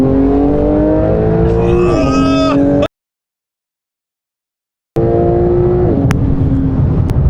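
A high-end sports car priced over $300K revs hard, its engine note climbing through gear changes, loud and close, then cuts to about two seconds of silence before the engine roars and pulls away again.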